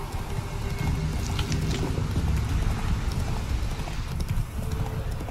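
Horse hooves pound steadily while riding back across open terrain in Witcher 3, a continuous dense clip-clop up close that runs the whole time over a low rumble of game ambience.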